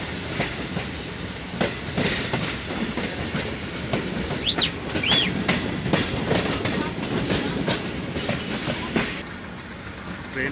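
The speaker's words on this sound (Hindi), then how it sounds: "ट्रेन वापस बैक हो रही है।" The Jaffer Express passenger train backing up on a Balochistan line, with steady rolling clatter and clicking wheels close by and brief high wheel squeals midway.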